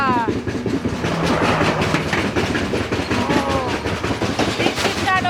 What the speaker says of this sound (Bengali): এই আর একটা ট্রেন যাচ্ছে